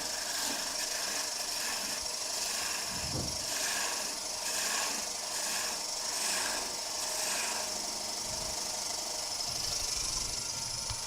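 A lathe chisel takes a gentle woodturning cut on a wooden German smoker piece, producing a steady, soft, continuous rasping hiss that lasts throughout over the hum of the machine.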